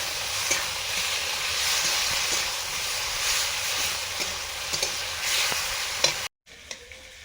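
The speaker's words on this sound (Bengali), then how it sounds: "আর এদিকে তো মাছের ঝোলটা রান্না করছি" Fish curry simmering in a pan with chili water and chopped tomato, giving a continuous close hiss and sizzle with a few faint clinks, cutting off briefly near the end before quieter cooking noise resumes.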